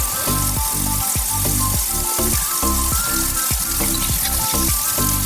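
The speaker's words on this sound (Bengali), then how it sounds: "লাউ দিয়ে দিলাম এবার জিরের উপরে।" Bottle gourd pieces fry on cumin seeds in hot oil, a loud, continuous sizzle and crackle with rapid repeated clatters from stirring running through it, no voices.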